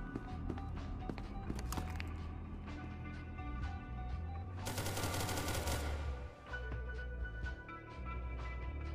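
Rapid gunfire from a gun in SCP: Secret Laboratory, a dense burst of sharp shots with a louder rattling stretch midway, heard over constant game background noise.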